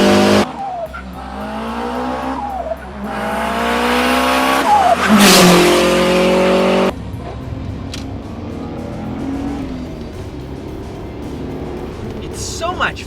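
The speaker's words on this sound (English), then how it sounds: "you can still hear that classic Subi rumble" Subaru WRX V Limited engine rumbles from inside the moving car, revving up through gears with rising and falling tones, then dropping to a quieter cruising drone with road noise.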